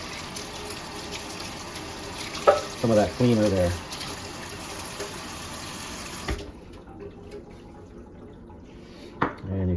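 Tap water runs steadily over an Okki Nokki goat's hair record-cleaning brush as it is rinsed, with a voice talking over the water, brief clatter near the middle, and the flow cutting off partway through.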